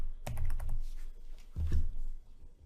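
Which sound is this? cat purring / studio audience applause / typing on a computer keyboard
typing on a computer keyboard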